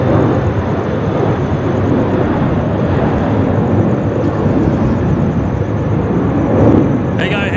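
Emirates A380 airliner arriving at Sydney Airport, a loud, steady broadband roar of jet engines that holds for several seconds without letting up, heard outdoors in wind.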